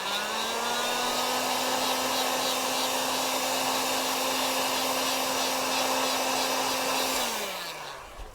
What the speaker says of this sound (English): we'll get our heat gun and just warm it up gently